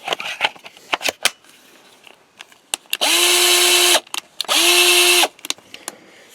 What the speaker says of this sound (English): It's a cheap drill.